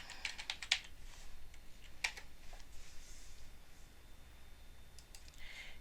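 Soft, sparse keystrokes tap on a computer keyboard as a password is entered, a few quick clicks near the start and another around two seconds in, over a faint room hiss.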